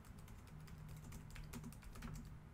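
Rapid keystrokes clatter on a computer keyboard in a quick, uneven burst of close clicks, recorded quietly with no talking over it.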